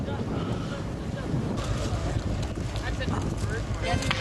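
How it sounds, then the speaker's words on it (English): Steady wind buffets the microphone with a continuous low rumble and rushing noise, constant throughout without pauses. "It's a little bit windy."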